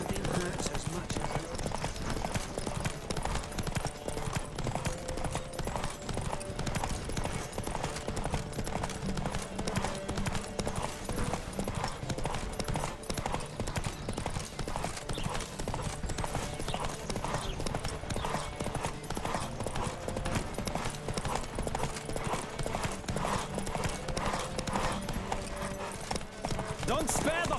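Horse hooves gallop in a race in the video game The Witcher 3, a fast, steady clip-clop rhythm running throughout under game music and occasional voices.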